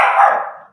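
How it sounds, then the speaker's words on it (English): A single short, sharp dog bark, close and loud, fading quickly in under a second. "what you barking at?"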